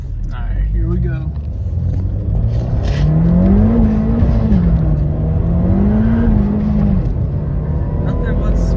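Turbocharged Ford Fiesta ST pulling hard on a street run, its engine droning loud and steady with a rising tone through the run. Voices talk over the engine noise.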